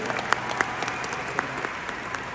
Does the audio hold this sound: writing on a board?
no